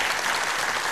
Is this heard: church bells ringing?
no